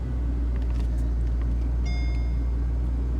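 A car engine idles steadily just after starting up, a constant low rumble with a faint high whine, close by and with nobody talking.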